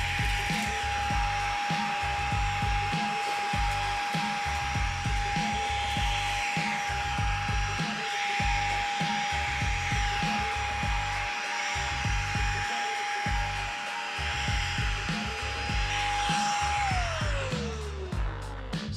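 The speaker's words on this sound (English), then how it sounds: "we're gonna use the high power mode to see how much of it we can vacuum back up" A DSPIAE handheld hobby vacuum runs steadily in high power mode, a loud close whine holding one pitch before dropping away as it switches off near the end, with no speech.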